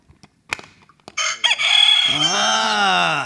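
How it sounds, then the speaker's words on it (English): A rooster crowing buzzer sound effect at a footy game show: a few faint clicks and taps, then a loud, close, drawn-out cock-a-doodle-doo call that rises and holds to the end. "So we've got a cow and a rooster."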